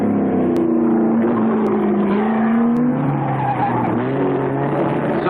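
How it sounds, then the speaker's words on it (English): Porsche Carrera 6 race cars at the 1966 Sebring 12 Hours roar past in a steady, loud engine drone with shifting pitch, and a brief tire squeal suggests hard cornering. "The Minter Class number 53 overtakes its factory twin, driven by Buzetta and Herman."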